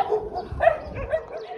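Street dogs in a Moroccan town on the road from the Anti-Atlas toward Ouarzazate give short yips and barks close by, mixed with people talking nearby.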